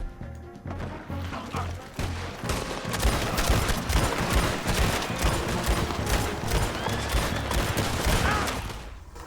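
Sustained gunfire rattles through a shootout in the video game Red Dead Redemption 2, dense overlapping shots and crashes over a low rumbling score, building louder toward the end with faint voices underneath.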